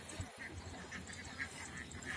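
Ducks quacking in a harvested rice field, several soft, fairly distant quacks spread across the clip over a low outdoor background.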